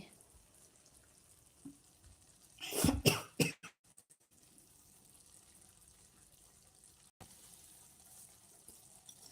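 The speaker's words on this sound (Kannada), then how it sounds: "ನಾನು ಸ್ವಲ್ಪ ನೀರನ್ನು ಹಾಕ್ತೀನಿ" Water poured into a pan of cooking okra for a dry stir-fry, a short loud splashing sizzle burst lasting about a second before quieter kitchen background resumes.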